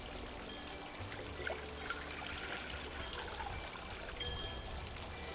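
Three cups of water poured into a pot for a limoncello sugar syrup, a steady, faint trickling pour in a kitchen that runs continuously with slight surges.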